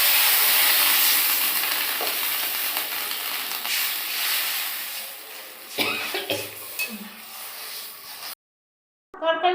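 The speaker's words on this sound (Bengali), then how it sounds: "বন্ধুরা, এই যে আমার তরকারিটা কষানো হয়ে গেছে। আলুটা এই যে জল দিয়ে দিলাম।" Potato curry sizzling and frying in a pan, a loud continuous crackle that settles down, followed by a few clinks and stirring noises before a short cut-off.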